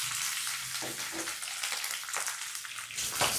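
Chopped green chillies with fenugreek and coriander seeds frying in hot oil over a low flame give a steady, close, bright sizzle with light crackles throughout.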